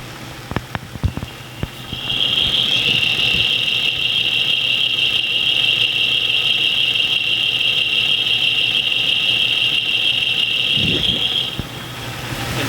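A car engine idles with a sustained high-pitched squeal coming from near the AC bracket on the right-hand side of the engine; the steady squeal rides over the idle for about ten seconds after a few brief clicks, with no talking.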